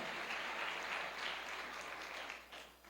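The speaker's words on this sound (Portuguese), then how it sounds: "Josias e Késia, vamos aplaudir o Senhor Jesus pela vida desses amados." Applause from a church congregation fills the room, a dense steady clapping heard from a slight distance that fades near the end, with no talk over it.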